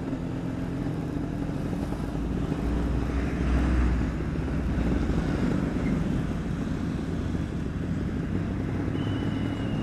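A motorcycle ridden fast, its engine drone steady and loud under heavy wind buffeting on the microphone, with no talking.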